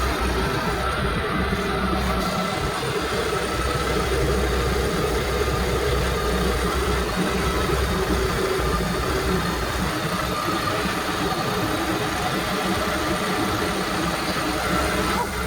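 A 2011 Yamaha AR210 boat engine runs steadily on a hose after reinstallation, a continuous low rumbling drone, close and even throughout.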